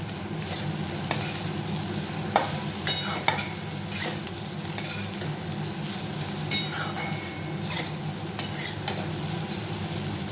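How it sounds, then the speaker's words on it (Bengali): Beet, egg and pumpkin fry in a pan with a soft, continuous sizzle as a utensil stirs them, leaving intermittent scrapes and light clinks. The sound stays close and steady, with no talking. "ভালো করে সুন্দর করে একসাথে নেড়ে নিচ্ছি"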